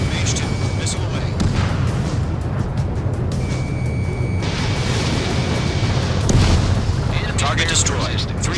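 A missile strike explodes on a target during aerial combat in Ace Combat 7, a dense roaring blast with rumble under constant jet and battle noise, while radio voices talk over it.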